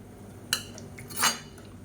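A spoon stirs mutton curry in a metal pot, giving two brief scraping clinks, the second slightly longer, faint and close against a quiet kitchen background.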